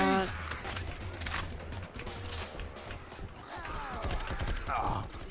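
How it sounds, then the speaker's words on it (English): Scattered gunshots in Left 4 Dead 2, with sharp cracks and short bursts mixed with clatter and game noise. Players talk faintly underneath. "Shots."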